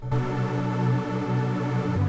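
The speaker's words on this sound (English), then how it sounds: "I used saw pads." A sustained synth saw pad chord with a bright, buzzy sawtooth tone and no sidechain, held steadily at even volume with a soft low pulse beneath.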